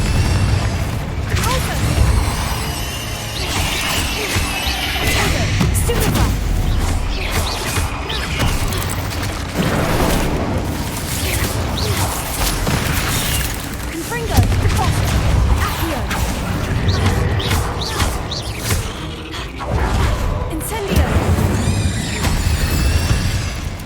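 A Confringo blasting spell in a Harry Potter Slytherin role-play game blows apart the exits: a dense, sustained barrage of booming blasts and crashing debris, loud and continuous, with a voice speaking over the din.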